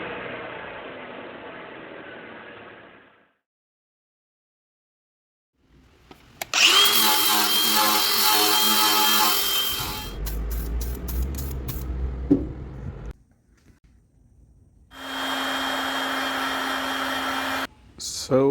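A heat gun blows a loud, steady roar of hot air onto a fuel tank part during repair of a 1986 Jeep Comanche, running in several long bursts broken by pauses and short clatters.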